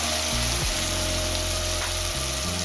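Spiced fish gravy for a loitta fish recipe sizzles and fries steadily in the pan as it is stirred, a close, constant crackling hiss with no talking.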